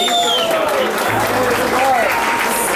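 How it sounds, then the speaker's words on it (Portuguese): An audience at a Copa ABD Bike Center mountain bike competition applauds in a steady, dense wash of clapping, with a voice speaking over it throughout. "Vamos aplaudir, pessoal."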